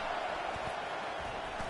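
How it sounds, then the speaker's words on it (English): Stadium crowd noise in a college football video game, a steady, dense roar rumbling throughout with no breaks and no distinct cheers standing out. "the crowd really making some noise now"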